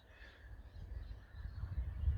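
Crows caw across an outdoor yard as a storm builds, a few rough calls rising over low wind rumble and growing louder toward the end.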